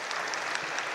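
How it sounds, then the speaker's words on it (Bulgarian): Applause for both teams at an indoor futsal match, a steady broadband patter of clapping from the crowd lasting about a second at moderate distance. "Аплодисменти за двата отбора."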